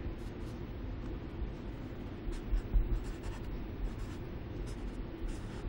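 Maths being written on a board, a dense scratching scrape that continues steadily over a low background rumble, close and moderately quiet, with no talking.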